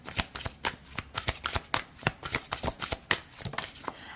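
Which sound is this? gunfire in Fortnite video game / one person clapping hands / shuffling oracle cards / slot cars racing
shuffling oracle cards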